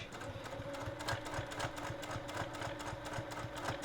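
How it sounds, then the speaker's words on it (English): A sewing machine runs a short back stitch on a passport cover, its needle chattering in a quick, steady, close-up rhythm with no pauses for nearly four seconds. "I'm gonna just go ahead and do my back stitch."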